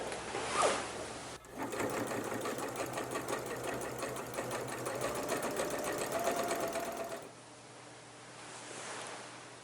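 A sewing machine runs in a continuous rapid chatter for about six seconds, stitching a seam on a flannel shirt jacket, with quiet handling rustle before and after.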